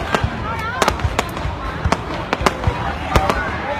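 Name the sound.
fireworks exploding in the sky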